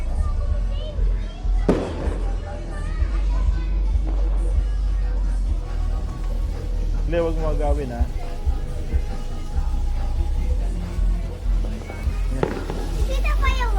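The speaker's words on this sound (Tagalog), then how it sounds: "Is it a fireworks? Yes." New Year's Eve fireworks crack and pop in sharp bursts at irregular intervals, some loud and close, while children and adults talk over the noise.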